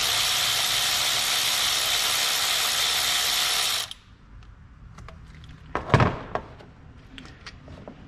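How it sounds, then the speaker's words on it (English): Ratchet wrench loosening a lower bolt, a loud continuous rapid clicking for about four seconds that stops abruptly, followed by quieter handling clanks and a brief metallic knock up close. "while I remove this lower bolt, I'm going to apply pressure"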